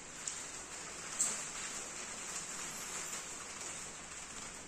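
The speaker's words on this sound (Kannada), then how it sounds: "ಮಳೆ ಬಂತು" Light rain falls on a farm, a faint, steady, high hiss of drops with a couple of soft taps near the start and no talking.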